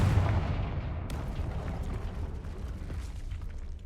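A Confringo fire spell blast in Hogwarts Legacy lands as a loud, rumbling boom at the start, then settles into a crackling, roaring burn that keeps going close by with no one speaking.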